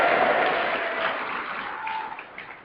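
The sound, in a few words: audience applause at a community meeting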